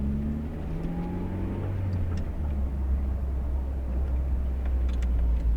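A 1990s Honda Civic drives through a U-turn on a closed road, its engine a steady, close interior hum with a gently rising tone early on.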